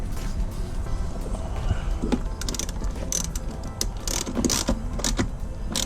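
A ratchet tightening T50 anchor bolts for the rear seat belts of a BMW F30, a close run of rapid clicking pawl strokes with scattered metallic knocks, steady and fairly loud, no talking.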